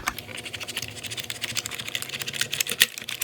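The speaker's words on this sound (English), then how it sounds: "take your cloth, push down on one key, and clean the dirt out from the side of the other key" Laptop keyboard keys pressed down repeatedly as dirt is wiped out from beside them with a cloth, a quick, irregular run of close plastic clicks and taps, with no talking.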